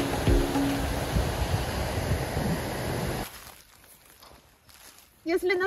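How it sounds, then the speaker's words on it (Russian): A mountain river in a forest gives a loud, broad rushing flow for about three seconds, then falls away to a quieter background, and a voice speaks near the end. "на пути оказывается горная река, которая прерывает лесную прогулку"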